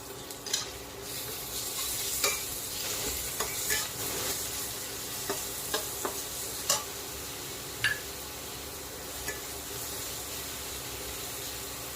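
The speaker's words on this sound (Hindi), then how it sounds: "अब लगभग प्याज हमारी भून गई है, तो इस स्टेज पे हम अपना ये लहसुन और हरी मिर्च का पेस्ट इसमें डाल देंगे।" Garlic and green chili paste frying with onions in a pan gives a steady sizzle and hiss, broken by frequent spoon scrapes and stirring clicks, close and continuous.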